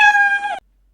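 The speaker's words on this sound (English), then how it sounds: "For example, this is the sound of cat," A single cat meow from a coding program's built-in sound library, clear and close, lasting about half a second and then cutting to silence.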